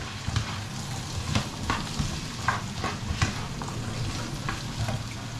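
A big spoon stirs sweet potato and onions in a pan. Soft sizzling runs throughout while the spoon scrapes and knocks the pan in irregular taps every second or so.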